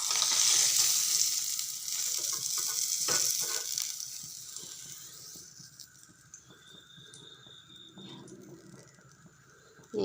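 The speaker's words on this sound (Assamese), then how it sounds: "এইখিনি এতিয়া এই তেলতে দিম বুলি লৈছোঁ এইটো এটা ফ্ৰাই কৰি ল'লোঁ" Whole spices, cinnamon, cardamom, coriander and bay leaf, sizzle and crackle in hot oil, loud at first and fading to a quieter fry, with light stirring scrapes near the end.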